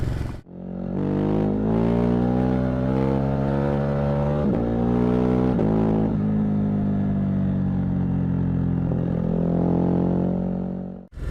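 A Ducati Hypermotard 950 SP with its 936cc twin rides on wet, slippery roads, and its engine holds a loud, steady drone through several shifts in pitch as it changes gear and accelerates, with no speech.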